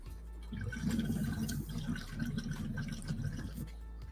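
Water bubbles through a Silver Fox cup bong with a little too much water in it, a steady low gurgling that runs close and continuous for several seconds without any talk.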